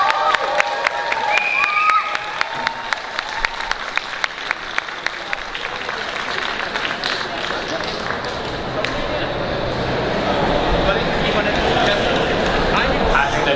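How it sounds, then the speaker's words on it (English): A comic con crowd in Scotland claps and cheers for Jason David Frank, starting with scattered distinct claps that swell into dense, sustained applause and shouts filling the hall, with a voice speaking over it early on. "How about an enormous cheer for the legend that is at the side of the stage for us now"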